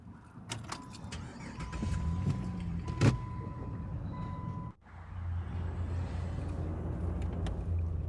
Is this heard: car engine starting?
yes